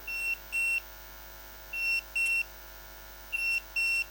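A tracking chip's alarm beeps in three pairs of short, shrill, electronic tones at a steady rhythm, close and clear over a quiet background.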